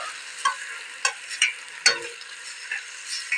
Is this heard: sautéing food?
yes